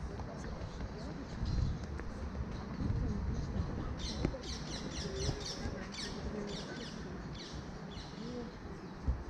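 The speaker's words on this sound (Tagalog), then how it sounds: "humuhuni ng mga ibon, parrot. Mga parrot." Parrots squawk and chirp in a European garden park near a fountain, a steady wash of water and distant ambience underneath, with bursts of bird calls scattered throughout, moderately far off.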